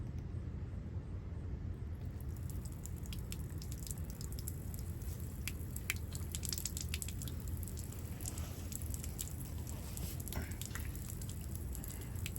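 Water trickles and drips steadily from a camper's fresh water tank drain while the rig is drained for winter, quiet and close, with scattered soft drops over a low hum.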